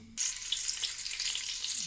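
Bacon sizzles steadily in melted pork lard in a pan, a dense crackling hiss that starts abruptly after a brief quiet moment and holds close and even throughout, with no voices.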